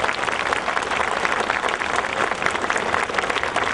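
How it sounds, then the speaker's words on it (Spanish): A crowd at a provincial mayor's swearing-in ceremony in Camaná gives loud, dense, sustained applause that holds at an even level throughout. "Fuertes los aplausos para la familia del alcalde provincial de Camaná."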